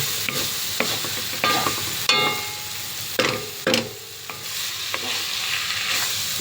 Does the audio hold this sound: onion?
yes